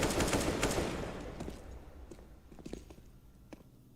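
An AK rifle in Counter-Strike: Global Offensive fires rapid, dense bursts of gunfire that start loud, then thin out into scattered, quieter shots and faint footsteps.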